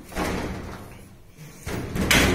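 A baby safety gate at the top of a flight of stairs in a villa swings shut, with a couple of knocks and clunks of the gate closing, one near the start and a sharper one at the end.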